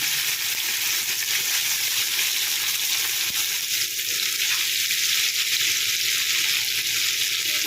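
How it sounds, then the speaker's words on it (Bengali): Paneer pieces fry lightly in hot oil in a pan, producing a steady, dense sizzle that holds unbroken from start to finish, close and fairly loud with no voices. "এবার তেল গরম হয়ে গেছে আমি পনিরগুলো হালকা করে ভেজে তুলবো"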